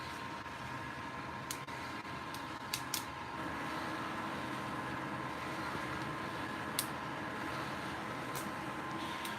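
Sharp scattered snaps of coffee beans in second crack, heard inside a Behmor 1600 Plus drum roaster, a few distinct pops spread irregularly over a constant fan and drum whir.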